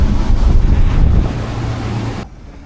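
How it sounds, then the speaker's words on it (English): Strong wind buffeting the microphone aboard a Scout 355 LXF boat running on the Intracoastal Waterway in the Florida Keys, a loud steady roar with engine and water rush underneath that drops abruptly near the end. "It's definitely windy. We're catching it to the face pretty good."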